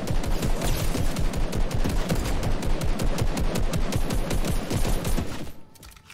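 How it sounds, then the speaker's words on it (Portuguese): Rapid automatic video game gunfire in Fortnite rattles in a fast, even stream of shots, loud and close, before cutting off abruptly near the end. "Tem cara atirando aqui."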